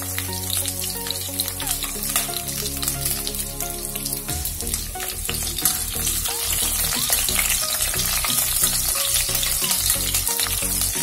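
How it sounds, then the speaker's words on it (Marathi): Capsicum frying in a pan for veg pulav keeps up a loud, continuous sizzle, while a spoon stirs it in scraping, clattering strokes that grow busier partway through; nobody speaks. "आता आपली शिमला मिरची सुद्धा फ्राय होऊन झालेली आहे"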